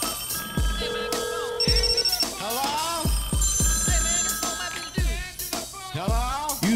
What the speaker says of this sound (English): It'll give me time to play the voicemail intro.